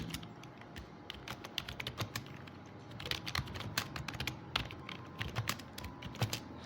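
Quick, light taps on a phone keyboard while writing Python code in Termux, a steady close run of small clicks at low level, with no talking.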